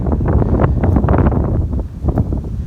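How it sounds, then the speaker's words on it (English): Strong wind buffets the microphone in a steady, loud roar with gusty surges throughout and no talking. "it is really windy. It's kind of nice, but loud."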